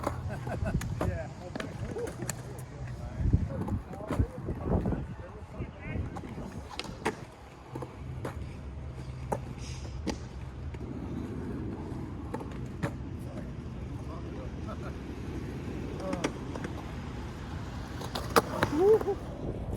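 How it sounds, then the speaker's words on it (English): Homemade short-wheelbase skateboard built with RoaRockIt technology rolling and rumbling over pavement outdoors, with wheel clacks and bumps; people talk over parts of the ride. "But they started pumping on the skateboard."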